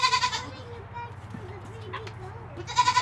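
Goats bleat in short nasal calls at the start and end on a farm where pregnant does are kept, close and moderately loud over a low background hum.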